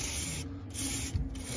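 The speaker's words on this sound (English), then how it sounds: "I just take my little brush that I got here and just carefully scrape off everything." A small brush scrapes debris off the coil fins of a rooftop HVAC package unit. The scraping is soft and close, a steady hissing rub with two short pauses.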